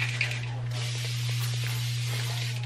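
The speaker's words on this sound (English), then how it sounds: "Oh, I'm not spraying it well enough" An Evian facial mist spray gives a steady, close hiss that runs without a break, over a low constant hum from an indoor home setting.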